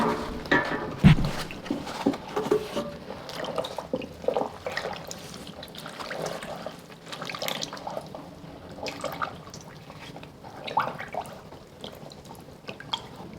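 Fabric being lowered into a tub dye pot of water during hand dyeing, giving soft sloshing and dripping that trickles on steadily at close range, with no talking.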